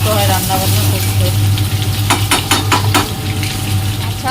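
Green tomatoes sizzle and crackle steadily in hot oil in a small home kitchen, with a few sharp clinks of a utensil against the pan partway through.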